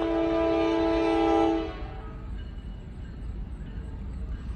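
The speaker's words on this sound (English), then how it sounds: "and here comes the train." Loud, sustained chord of a freight train horn at a crossing, cutting off after about a second and a half, leaving the rumble and rattle of the passing train.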